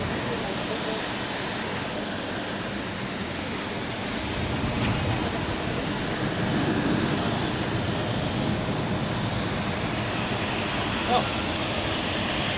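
An Austrian Airlines airliner taxis at Zurich Airport, its steady jet engine whine and rumble filling the whole stretch, swelling slightly midway, with a voice speaking now and then.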